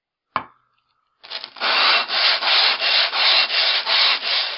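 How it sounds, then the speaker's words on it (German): An axe being drawn carefully over coarse 120-grit sandpaper laid on a sitting pad or foam mat, a single scrape followed by a steady run of repeated rough rubbing strokes, close and loud. "Dann fange ich an mit einem 120er sehr groben Papier."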